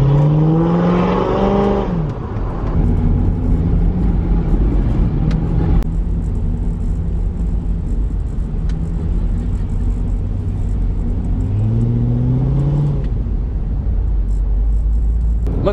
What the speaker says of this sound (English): you can just hear that Z06 chopping away behind us.